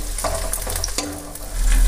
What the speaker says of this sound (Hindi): इनको 1 मिनट के लिए फ्राई कर लेते हैं।